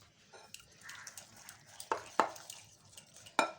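Khova malpua batter being whisked in a bowl, a few sharp utensil clinks against the rim standing out over soft stirring, quiet and close.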